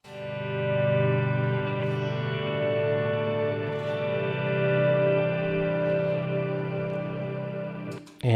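Line 6 M9 effects pedal set to an ambient reverb scene, a sustained, layered wash of guitar tones with long shimmering tails, steady and loud throughout before a sharp attack at the very end.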